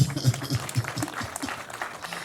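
A crowd at a Rwandan cow-giving family ceremony claps steadily in brisk, close applause, with faint voices underneath.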